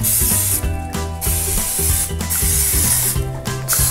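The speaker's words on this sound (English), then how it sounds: "spray our waffle maker" Short hissing bursts of baking spray from an aerosol can onto a waffle maker, three or four quick blasts close by, with a low mechanical hum underneath.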